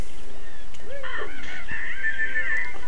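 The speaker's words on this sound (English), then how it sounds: "It's just all these birds." Several birds cawing in the Banjo-Kazooie video game, a few harsh crow-like calls in quick succession, loud and close with no talking.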